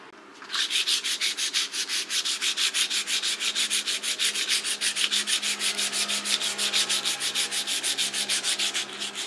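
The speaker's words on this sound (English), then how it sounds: "this is the rough one to take off whatever is on the wood" Rough sandpaper rubs a wooden knife handle on a Tokio Damascus sashimi knife in fast, even back-and-forth strokes, a loud close rasping rhythm that runs steadily for several seconds with no voices.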